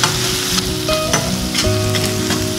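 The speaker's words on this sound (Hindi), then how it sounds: "इन्हें हम थोड़ी देर तक भूनेंगे," Garlic, ginger and green chilli paste frying in a pan for a dhaba-style potato and beans sabzi, a loud, steady close sizzle with occasional scraping stirs and no talk.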